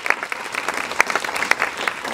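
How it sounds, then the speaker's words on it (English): Audience applause at an evening film premiere event, a steady wash of clapping hands with a few sharper individual claps standing out, moderately loud and continuous throughout. "If we could, a round of applause for all of them."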